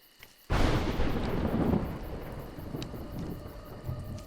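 Thunder from the video game A Juggler's Tale hits as a sudden loud crack, then rolls on as a broad rumble that slowly eases off, with no voices.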